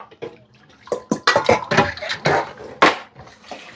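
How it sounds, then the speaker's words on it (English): Tap water runs into a kitchen sink during home cooking of stuffed pork chops and carrot loaf, heard as a series of uneven, close splashing bursts with no talk. "Water on."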